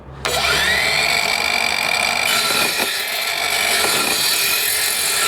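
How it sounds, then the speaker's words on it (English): A handheld saw cuts through a metal tube for a telescopic RV antenna mount, giving a loud, steady grinding rasp with a high whine that runs almost the whole time and wavers as the blade bites. "work it through the metal nice and slow, make a nice clean cut"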